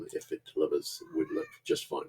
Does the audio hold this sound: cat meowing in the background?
yes